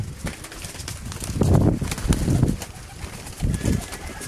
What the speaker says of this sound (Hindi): ये तमाम कबूतर हैं उस्ताद मियां रियासत अली साहब ऑफ चक शेर मोहम्मद के